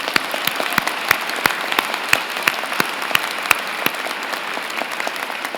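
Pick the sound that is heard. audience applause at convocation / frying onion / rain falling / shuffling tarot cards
audience applause at convocation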